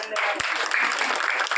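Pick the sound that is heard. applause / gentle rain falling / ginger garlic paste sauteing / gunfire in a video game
applause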